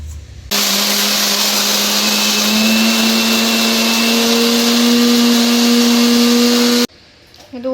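A kitchen mixer grinder purees two tomatoes, its motor droning loud and steady for about six seconds, then cutting off abruptly; a few faint voices can be heard briefly after it stops.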